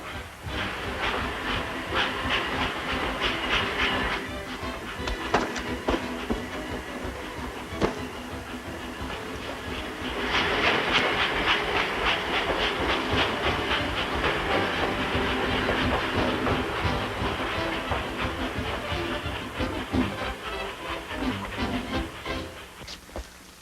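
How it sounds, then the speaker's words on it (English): A steam train rumbles past with a continuous hissing roar and rhythmic clattering, loud and close, swelling midway before easing slightly. "The train! The train!"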